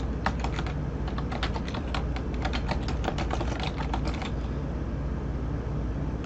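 Rapid, close typing on a computer keyboard for an email, keys clicking in quick irregular bursts for about four seconds before the sound stops.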